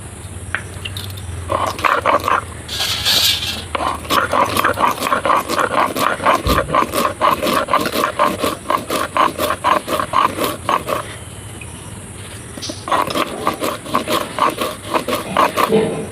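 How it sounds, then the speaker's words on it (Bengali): Mustard and poppy seeds are ground by hand on a stone grinding slab, making loud, close, gritty scraping strokes in a fast steady rhythm that pauses briefly partway through. "চলুন আমি আগে মশলাটা বেটে নেব। তো সরষে পোস্তটা বেটে নেব।"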